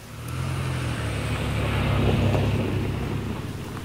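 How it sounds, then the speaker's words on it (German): A tractor pulls a trailer along a soaked, muddy track toward a lake, its engine a steady low rumble that swells as it nears and then eases, with wind noise over the microphone. "Keine Schwierigkeiten hat der Traktor, der einen Hänger, in dem man mal Pause machen kann, zum See bringt."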